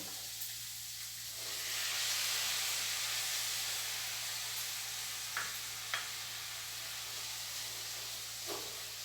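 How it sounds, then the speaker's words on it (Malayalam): Tomato and onion frying in a pan for a chicken curry, stirred together: a steady sizzle and steam hiss, louder early on, with a few faint utensil scrapes against the pan later. "ടൊമാറ്റോയും ഉള്ളിയായിട്ട് നന്നായിട്ടൊന്ന് യോജിപ്പിക്കണം"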